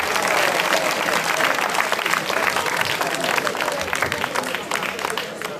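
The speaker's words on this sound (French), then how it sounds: "Applaudissez très fort." Audience at a church feast-day celebration of the Annunciation applauds loudly and steadily, a dense wash of clapping with crowd noise and a few voices mixed in throughout.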